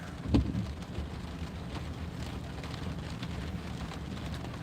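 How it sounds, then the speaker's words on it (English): Steady rain falling outdoors as a constant hiss, with a brief louder knock near the start and a low rumble underneath. "Time for me to go sit in the rain."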